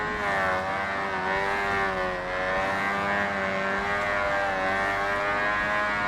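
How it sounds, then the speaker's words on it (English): A stock car's engine and exhaust in the 2005 Xbox racing game Forza Motorsport drone steadily and loudly, a sustained tonal engine note holding with slight pitch wavering and no talk over it. "just to see how much different the exhaust sounds are between the stock and professional intake and exhaust"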